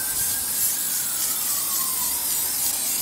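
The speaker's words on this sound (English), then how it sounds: "when you're spraying these things" Continuous close hiss of spray paint being applied to the panels of an H-Block model, a steady airy rush with a faint whistling tone drifting underneath.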